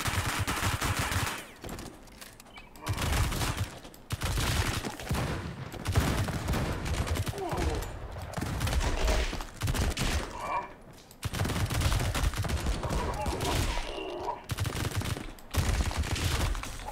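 A P90 in a video game firing long, dense streams of automatic fire, loud and close, broken by brief pauses between bursts.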